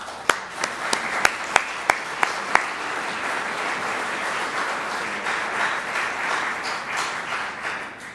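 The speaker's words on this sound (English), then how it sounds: "I invite you to welcome them with applause." A few sharp separate claps start off, then a crowd breaks into sustained applause that holds steady to the end.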